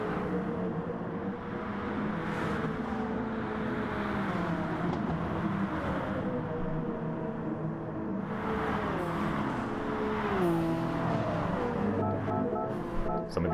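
Fast GR1 race cars in Gran Turismo Sport on the Willow Springs circuit, a continuous engine drone that rises and falls in pitch as cars pass, with no talking.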